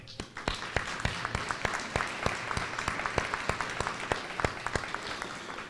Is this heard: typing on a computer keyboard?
no